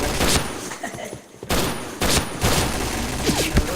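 Video game gunfire rips out in loud bursts and fusillades, a near volley followed by more shots after brief gaps, with a voice faintly underneath.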